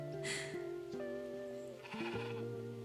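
Several sheep bleat in Discounty, a cozy supermarket video game, with overlapping wavering cries layered over soft background music.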